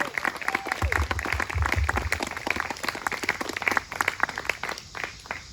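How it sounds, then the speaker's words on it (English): Audience applause for a performer at an operetta concert, a dense wash of many hands clapping steadily throughout with some low rumble and faint crowd voices mixed in. "Another big round of applause for Zoie Beckas."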